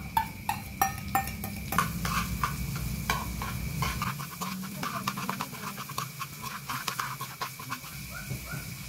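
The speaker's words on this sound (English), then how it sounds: "Then add the carrots first, then stir until the carrots are not too hard to eat." Carrots being stirred in a cooking pan, repeated scraping and clinking of a spoon against the metal in an uneven rhythm, with faint background noise.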